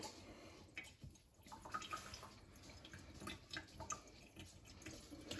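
Whey dripping from cheese curd draining in cheesecloth while making quark: faint, close, irregular drips and trickling liquid, steady throughout with no talk.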